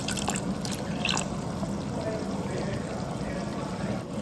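Water pours steadily into a cooking pot on the fire for a Ghanaian snail palm nut soup, a continuous close splashing rush lasting the whole moment.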